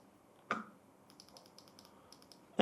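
A short, light run of keystrokes on a computer keyboard while JavaScript code is written, heard as faint, quick clicks between a couple of louder isolated knocks in an otherwise quiet room.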